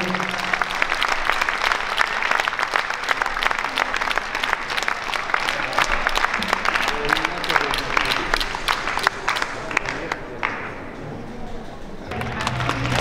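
Audience applause at a ballroom dance festival, dense sustained clapping from a crowd lasting most of the time, then thinning and fading out near the end.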